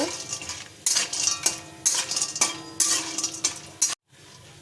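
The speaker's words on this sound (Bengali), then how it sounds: "বড়িগুলো একটু ভেজে নেব" Lentil dumplings (bori) fry in hot mustard oil in a kadai, a loud close sizzle rising in repeated surges as they are stirred, cutting off abruptly near the end.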